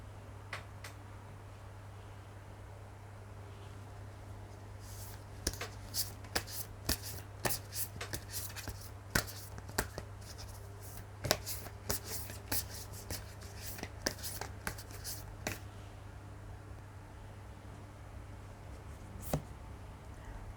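Tarot cards being shuffled and handled at close range, a quiet run of soft riffling slaps and clicks, irregular and scattered with short bursts, no talking.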